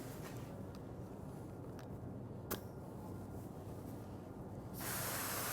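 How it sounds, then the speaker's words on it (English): Steady air hiss from the open cleaning-air port blowing across the cap of a Graco Fusion MP mechanical purge spray gun, continuous and fairly quiet, growing louder and brighter near the end. "That's the air blowing across the cap to keep it clean."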